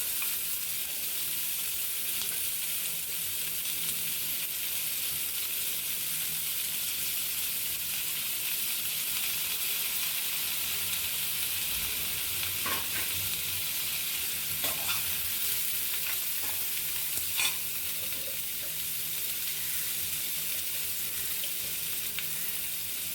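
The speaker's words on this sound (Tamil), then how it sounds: "இப்போ வெங்காயம் நல்லா வதக்கி அதோட கலர் நல்லா ப்ரௌன் ஆகிற வரைக்கும் நம்ம வதக்க போகிறோம்" Sliced onions fry in a pan for egg rice, a steady soft sizzle running throughout with occasional scrapes and clinks of stirring.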